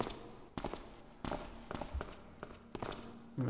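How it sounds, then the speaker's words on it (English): Footsteps echo along a corridor in the Thief video game, several separate soft taps spread across a few seconds, fairly faint against a low steady background hum. "There's still plenty of footsteps in the corridor"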